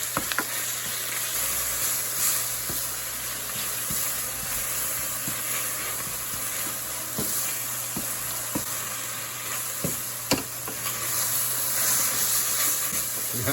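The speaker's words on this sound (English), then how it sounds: "Let this fry up." Spinach seasoned with salt and black pepper frying in a pan, giving a steady close sizzle and hiss with occasional soft pops and stirring clicks, no voices.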